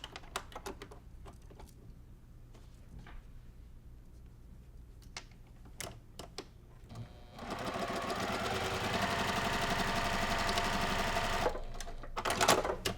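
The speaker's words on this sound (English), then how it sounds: "we're going to stitch this with a 1/4 inch seam" Close by, a sewing machine runs a quarter-inch seam on a 1930s-style quilt block, a steady rapid whir of about four seconds set between scattered clicks and handling taps.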